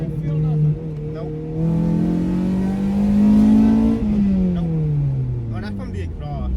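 A K-swapped Honda car engine revs in first gear through its exhaust, a loud rising and falling drone that swells, peaks and eases off, with people talking over it.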